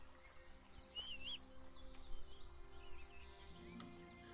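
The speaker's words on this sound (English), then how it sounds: "those are some loud fucking birds" Birds chirping and warbling outdoors, quick high tweets and trills scattered across several seconds, faint and somewhat distant with a low background hum.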